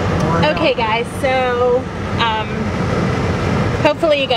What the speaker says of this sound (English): We have the air conditioning on full blast right now.